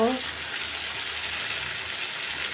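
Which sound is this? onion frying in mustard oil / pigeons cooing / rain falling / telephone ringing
onion frying in mustard oil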